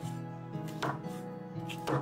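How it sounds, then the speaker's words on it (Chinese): A knife chops chili peppers and scallions on a board during meal prep, two distinct chops standing out over a steady low background hum. "辣椒和大葱给它切断"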